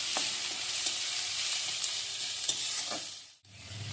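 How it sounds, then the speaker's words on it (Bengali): Onion and tomato fry over a low gas flame for dhaba-style tadka dal, a soft steady sizzle broken by occasional stirring clinks, quiet and close, ending with a brief pause before the frying resumes. "গ্যাসের আঁচটা কম করে ভেজে নিচ্ছি"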